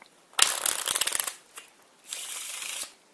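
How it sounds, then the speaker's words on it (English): A deck of playing cards riffle shuffled in the hands: a dense burst of rapid, crisp card flutter, then a short tap as the halves come together, and a second softer, steady riffle that ends abruptly. Close and clear, with no talking. "I'm going to show you how to shuffle a deck of cards like this"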